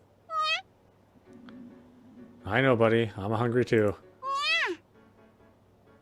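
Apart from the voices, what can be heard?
cat meowing in the video game You and Me and Her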